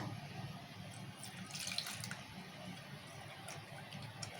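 Tap water runs steadily into a kitchen sink while tamarind is rinsed, a quiet continuous splashing stream with a few faint clinks, no voices.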